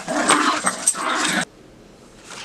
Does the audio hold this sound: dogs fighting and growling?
yes